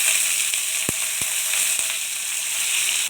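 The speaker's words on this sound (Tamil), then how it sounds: "ஆனியன் நல்லா ஃப்ரை ஆகிடுச்சு" Chopped onions and green chillies fry in oil in a pan, giving a constant bright sizzle close by, with three or four soft pops or stirring knocks near the middle.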